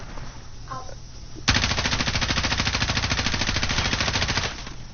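Gunfire from a gun in Call of Duty Modern Warfare, a loud, rapid automatic burst lasting about three seconds with an even rattling rhythm, coming in abruptly after a brief quieter moment.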